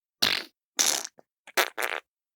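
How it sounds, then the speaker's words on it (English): A few loud, raspy bursts of flatulence, one long and several shorter, close up with brief silences between them. "He farts a lot."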